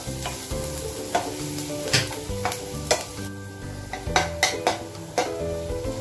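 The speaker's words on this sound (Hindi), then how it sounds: "अनियंस को हम गोल्डन ब्राउन होने तक फ्राई कर लेते हैं, स्टेयर करते रहेंगे ताकि ये इवनली गोल्डन हो जाएं।" Sliced onions fry toward golden brown in a pan for Punjabi kadhi pakora, a close, busy sizzle broken by repeated metallic spatula scrapes and knocks as they are stirred, with no talk.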